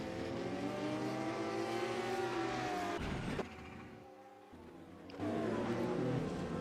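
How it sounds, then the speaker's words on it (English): A Porsche GT3 race car in a sim race at Hockenheimring dives into a turn, its engine roaring loud and close, then dropping sharply as it lifts before revving hard again, with no voices. "You watch this as that Porsche dives into the turn and just misses the turn"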